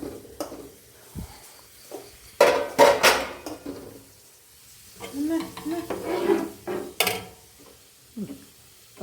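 Jackfruit halwa with maida being stirred in a pan: intermittent scraping and clattering strokes over a soft sizzle, with a few sharper knocks of the utensil against the pan.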